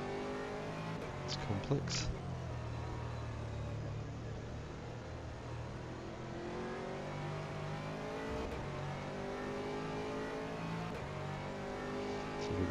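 Audi GT3 race car at Zandvoort in rFactor 2, its engine droning and rising and falling through gear changes as it laps the circuit, with someone talking briefly over it.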